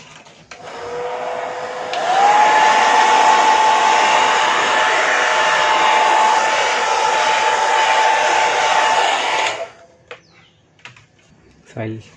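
A hair dryer blows loud and close over a watercolor landscape painting, starting with a click, holding a steady whooshing roar with a constant motor whine for several seconds, then cutting off, followed by faint handling noises.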